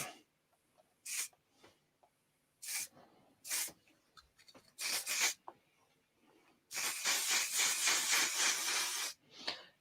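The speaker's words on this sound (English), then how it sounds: "It's like a really dry, matte finish hairspray." Several short hissing bursts of a dry, matte-finish hairspray from an Electric aerosol can, followed by one long continuous spray, close up with quiet handling noises between.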